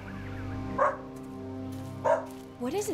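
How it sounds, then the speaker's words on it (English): A dog barks loudly twice in the foreground, spaced about a second apart, followed by a brief higher yelp, all set against a steady background hum. "Loud ass dog."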